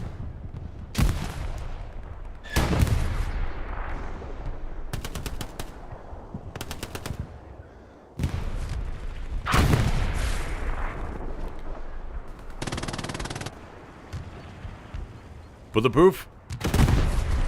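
Gunfire and artillery rounds crash down on a WWII North Africa battlefield at El Alamein in a skirmish game, with repeated heavy impacts and bursts of fire scattered through the stretch, loud and close, mixed with bits of talk.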